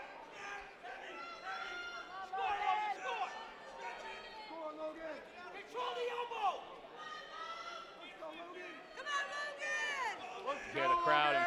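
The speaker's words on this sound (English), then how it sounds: "Hear the crowd imploring Logan Smith" Spectators at a college wrestling championship match yell and cheer on a wrestler, loud overlapping shouts and chants close by, rising in bursts, mixed with a commentator talking over them.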